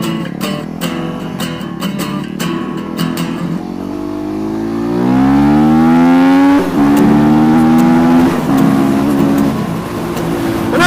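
A Yamaha WR250R motorcycle rides on the road, its engine note climbing steadily through the gears in a loud, close sweep, with a few clicks early on and no talking.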